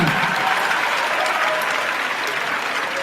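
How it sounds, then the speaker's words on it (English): An audience at a summer symposium opening session gives sustained, dense applause, a steady wash of many hands clapping at even loudness from start to end, with no voices standing out. "Give yourselves a round of applause."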